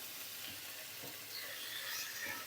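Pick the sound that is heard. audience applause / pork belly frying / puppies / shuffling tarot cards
pork belly frying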